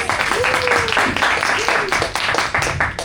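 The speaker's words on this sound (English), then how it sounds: "Everyone give a big round of applause." A public speaking class applauds a student at an MUN seminar, a steady wash of many hands clapping close by throughout, with a voice speaking over it at times.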